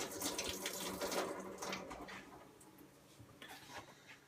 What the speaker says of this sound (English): Right, so it's time to dump the water now.